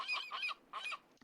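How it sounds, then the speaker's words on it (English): Seagull ambient cries from the video game Minecraft, two bursts of rapid repeated squawking calls close and fairly loud with a short gap between them. "I'm turning my ambient noises down because that seagull is very irritating."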